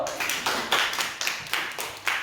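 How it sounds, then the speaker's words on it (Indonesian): Students in a classroom give a short burst of clapping for a presenting group, a few sharp bursts of hand claps in uneven rhythm, fairly close and alone without talk. "kita berikan tepuk tangan dulu"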